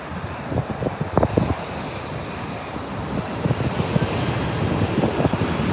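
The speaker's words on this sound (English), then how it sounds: "Coming in next is United Airlines Flight 199, a Boeing 787-9 Dreamliner arriving from Shanghai, China" A United Airlines Boeing 787-9 Dreamliner arriving at Los Angeles airport rumbles steadily in a broad engine roar with gusty wind buffeting the microphone, building slightly toward the end.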